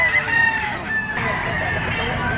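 A yellow-legged bull stag gamecock crows once in a long drawn call over steady background noise, fairly near.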